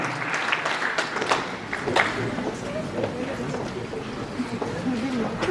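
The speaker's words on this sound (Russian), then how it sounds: "Бурные аплодисменты за современный танец от наших конкурсантов." Audience applause after a contemporary dance at a beauty pageant show in Moscow, a lively crowded clatter of clapping, near and continuous, with a faint voice running underneath.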